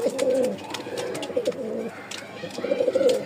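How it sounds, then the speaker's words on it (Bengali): A male Giribaj pigeon coos close by in repeated throaty, rolling phrases, with faint background noises between calls and no talking. "দেখেন নরের ডাক"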